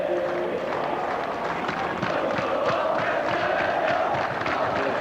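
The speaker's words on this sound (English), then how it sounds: "St Greg's, the cheer squad, they're vocal." A school cheer squad chants and yells in the stands at a schoolboy rugby league knockout match, a loud sustained crowd roar with voices rising and falling.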